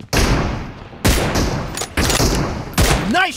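Gunfire in PUBG Mobile, four loud, sharp shots or short bursts spaced roughly a second apart, each ringing out before the next, close and forceful.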